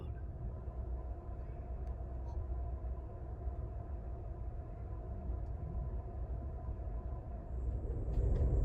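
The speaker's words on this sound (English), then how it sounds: "Riding the train through North Dakota." Steady low rumble and rhythmic clatter of a passenger train rolling along the rails through North Dakota, heard from inside, growing slightly louder near the end.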